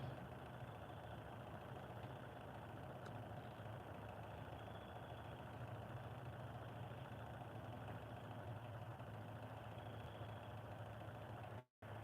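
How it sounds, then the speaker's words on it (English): On a catfish fishing boat, a bait tank pump runs with a steady low drone much like an idling diesel engine. It hums evenly and unbroken for the whole stretch, with a brief cut near the end. "Y'all got a diesel running. No, that's the bait tank."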